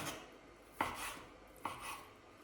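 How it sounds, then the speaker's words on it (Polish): Boiled chicken breast being broken up on a kitchen board for egg salad, with two sharp, close knocks about a second apart over a quiet background. "I pierś oczywiście nie pokroimy w kostkę, no ale w każdym bądź razie rozdrobnijmy ją."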